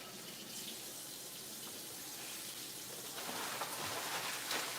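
Tap water pours and splashes in a kitchen sink while flounder pieces are rinsed, a continuous hissing spatter that grows slightly louder near the end, with no voices.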